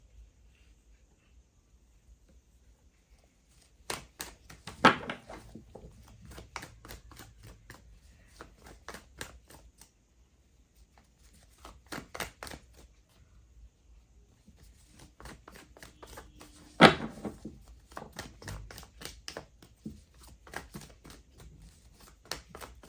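Tarot cards being shuffled by hand in long bursts of rapid riffling clicks, close and crisp, separated by quiet pauses, with no talk.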